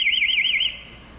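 An alarm sounds loud and close in a warbling, siren-like tone that pulses rapidly, then cuts off just under a second in, leaving a quiet room.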